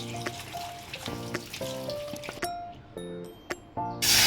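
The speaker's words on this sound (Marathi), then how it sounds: "पाण्याखालून स्वच्छ धुवून घ्यायचा आहे" Water trickles and splashes from a running tap as spinach is rinsed, with intermittent squishy handling sounds, faint beeps and a sudden louder gush near the end.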